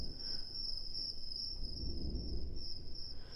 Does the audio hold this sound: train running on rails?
no